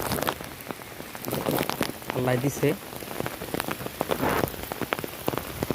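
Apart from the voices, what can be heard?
rain falling in a garden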